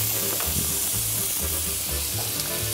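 Foie gras searing in a hot pan, a loud, dense, continuous sizzle close up with no talk.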